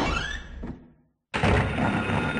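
A jammed door lock rattles and thunks in the Silent Hill PS1 game at Midwich Elementary School: a short clunk fades into a moment of silence, then a loud, sustained, noisy rattle continues to the end.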